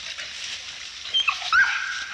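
Hunting bay dogs baying at a wild boar yelp and whimper in high, thin whines and cries, fairly close, over a steady background hiss.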